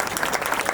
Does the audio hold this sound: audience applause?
yes